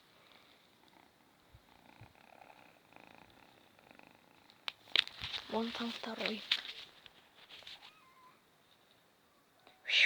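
Kitten purring softly with a few faint meows, heard quietly in a room as people speak nearby.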